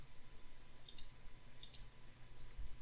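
Two quiet, sharp computer mouse clicks land about a second apart, each a short double-tick, while setting up a cryptocurrency ICO smart contract. A steady low hum sits underneath and no one speaks.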